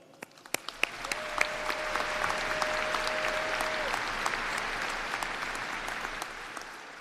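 At a university commencement ceremony, the crowd breaks into applause after a few scattered early claps, swelling into a broad, moderately distant wash of clapping in a large hall while a faint steady tone hangs briefly above it.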